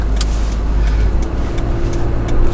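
A 2019 Toyota 4Runner NightShade driving on a street gives a steady, close engine and road drone with tire rumble, continuous throughout with no voices.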